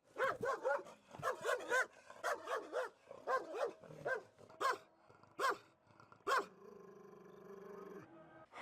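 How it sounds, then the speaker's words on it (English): A street dog in Chefchaouen, Morocco, barks in rapid repeated bursts, fairly close and moderately loud, followed by a lower drawn-out growl-like sound near the end. "A dog wanted to bite us, but it didn't."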